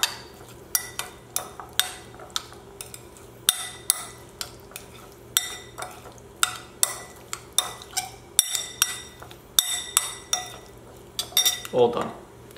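A spoon mixes a pepper mixture in a bowl, striking the sides in a steady run of sharp, close clinks and scrapes that speed up toward the end.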